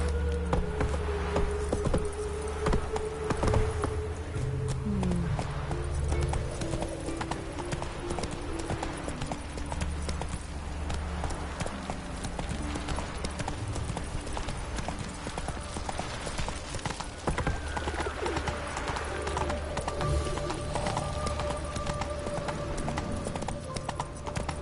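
Geralt's horse Roach galloping in The Witcher 3 game, a fast, continuous clip-clop of hooves throughout, loud and close over game ambience and background music.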